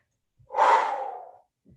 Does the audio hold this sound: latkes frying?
no